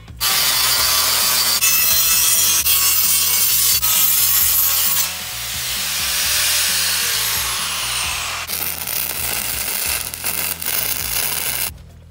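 Welded metal pieces being ground down with a grinder during detail cleanup, a loud continuous abrasive rasp with shifting pitch, steady for twelve seconds apart from a short softer stretch midway and a sudden cutoff at the end.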